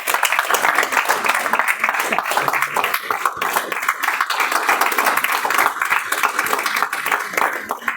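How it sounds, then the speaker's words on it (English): A room full of Toastmasters meeting attendees keeps up sustained clapping, dense and even, with faint voices mixed beneath the applause. "Keep the applause going."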